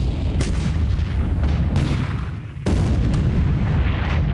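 Naval 4-inch guns fire at heavy cruisers in a naval war game: loud, dense, overlapping artillery booms roll on almost without pause, with a brief dip before the barrage resumes.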